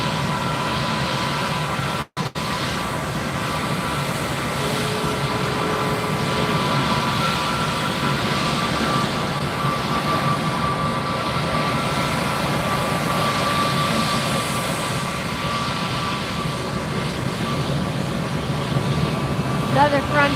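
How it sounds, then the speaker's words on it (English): A Spirit Airlines Airbus A320neo departs on a flight to Raleigh-Durham, its jet engines giving a sustained broadband rumble and whine at a steady level, with a brief click near the start. "This is Spirit Airlines Flight 1335, headed off to RDU, Raleigh-Durham."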